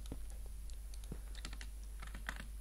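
A computer keyboard and mouse click quietly at close range while building a modern house, with irregular taps and clicks scattered over a steady low hum.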